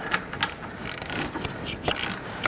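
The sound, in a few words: 3/4 inch ratchet adjusting a power trowel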